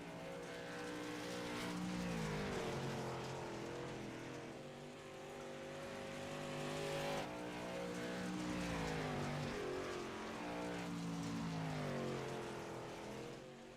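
Race car engines lapping a track during qualifying in an iRacing league session: a continuous moderately loud engine drone whose pitch rises and falls with shifts and corners, swelling and fading twice as the cars pass.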